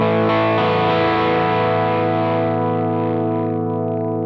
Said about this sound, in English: if I bring it into full humbucker mode